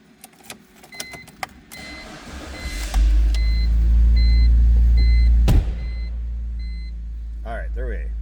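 A 2006 BMW 325Ci convertible engine cranks and fires, then settles into a loud, steady idle with a chime beeping faintly over it, after some clicks and rustling before the start.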